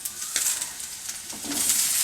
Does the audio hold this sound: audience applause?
no